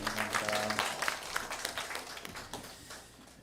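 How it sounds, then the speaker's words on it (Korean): Church congregation gives a round of applause during a Sunday morning worship service, a dense burst of many hands clapping that gradually thins and fades out over a few seconds. "지금까지 인도하신 하나님 앞에 감사의 영광의 박수 올려드립니다."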